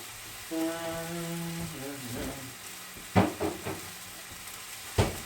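Garlic and hamburger meat sizzle in a pan, a steady close frying hiss with a few sharp stirring scrapes and clinks, under a soft background tone.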